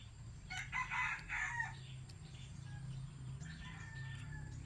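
Roosters crow at a neighbour's house in the countryside, with one fairly loud, close call early on and a fainter crow near the end over a constant low background hum, no voices.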